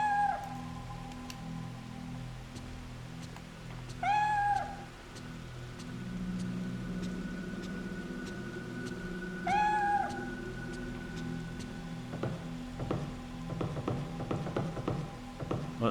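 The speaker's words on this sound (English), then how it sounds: "Was that the kitty upstairs?" In the horror video game Fatal Frame 3, a cat meows twice, each a short, clear cry several seconds apart, over a low ambient drone with faint tapping toward the end.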